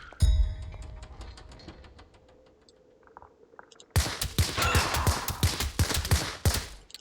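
Gunfire in the video game Hell is Others, sparse shots in the distance at first, then a dense burst of rapid rattling fire that grows louder.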